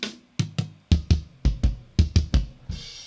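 A recorded tom drum, tom 4 of a live kit, is struck about ten times in an uneven pattern, each hit a close, punchy boom with a bright attack from added EQ, followed by a brief cymbal-like wash.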